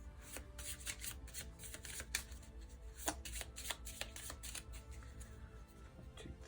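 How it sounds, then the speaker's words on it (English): A deck of Marvel Champions cards being shuffled up close, a quiet riffling patter of rapid card flicks with a few sharper snaps, steady for several seconds with no talking. "I will need to shuffle up"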